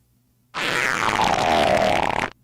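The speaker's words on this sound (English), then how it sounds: "I can hear his fart" A single loud, sustained fart lasts nearly two seconds as a raspy, buzzing blast that flutters at the end, heard alone against silence.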